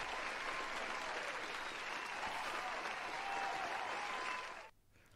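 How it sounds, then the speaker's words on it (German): Continuous clapping from a group, even and sustained, in the video game Holy Potatoes! A Spy Story, then cutting off abruptly near the end. "Warte, Bison, hast du gerade versucht Applaus zu machen, obwohl uns kam kein Applaus hier an?"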